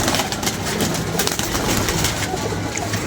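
Pigeons coo continuously close by, a low soft burbling that fills the whole stretch with steady rustling in the background.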